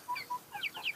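Soft, scattered clucks and chirpy calls from a few chickens, close by, coming in short bursts over a quiet background.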